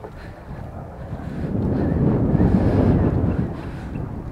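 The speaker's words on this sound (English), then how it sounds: "it's a little bit windy this morning" Gusty wind rushes past the microphone at a mangrove creek by exposed sand flats, a broad roar that swells and holds strong through the middle, with no talking.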